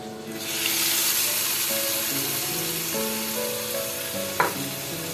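Steady hot sizzling of a hot oil tempering poured onto kadhi, a continuous bright hiss with a brief splash or clink near the end, no voices.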